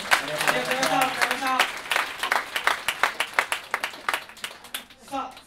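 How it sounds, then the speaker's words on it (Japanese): An audience claps for a six-piece band at a live band contest, applause building from under a host's voice into a steady round of sharp, close claps that thin out toward the end. "ライオネルの皆さんに大きな拍手をお願いいたします"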